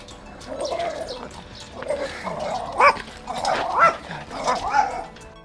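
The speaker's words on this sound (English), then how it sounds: "Oh, this dog scares me all the time." A dog met on a rural village path near a cornfield in Horodkivka barks and yips repeatedly in short bursts, fairly close, with some whimpering between barks.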